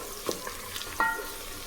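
Onions sautéing in oil in a pan for a quick pressure-cooker rice dish, a faint steady sizzle with a couple of brief stirring clinks, heard alone.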